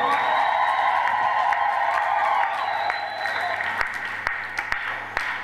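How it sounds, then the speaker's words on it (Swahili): Congregation at a Christian church business seminar applauding steadily, a broad wash of clapping that thins toward the end into scattered individual claps, with faint voices beneath. "Acha utani, piga makofi."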